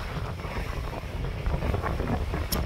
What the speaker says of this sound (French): Là, c'est de la belle voile.